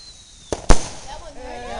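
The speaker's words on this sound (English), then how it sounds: "Fireworks everywhere." Fourth of July fireworks rockets bursting: two sharp, loud booms close together, the second bigger, followed by crackling and whistling trails as other shells pop farther off.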